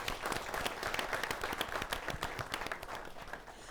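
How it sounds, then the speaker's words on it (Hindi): A crowd at an awards ceremony applauding steadily, dense overlapping claps at moderate loudness, continuing without pause. "जोरदार तालियां।"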